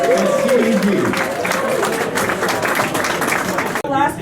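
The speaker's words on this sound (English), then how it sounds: "But how about one more big round of applause?" Crowd applause at an Alaska Airlines inaugural flight celebration: a burst of clapping from a gathered audience that builds and tapers over a few seconds, with voices mixed in.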